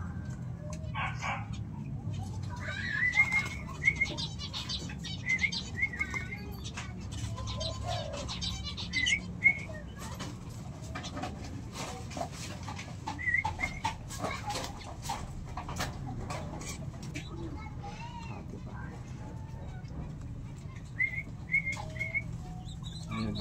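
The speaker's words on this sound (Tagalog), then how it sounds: "Dalawang bato-bato." Pet zebra doves (bato-bato) in a home setting, with soft repeated cooing and bird calls over a steady low background rumble, plus brief faint flutter-like bursts scattered throughout.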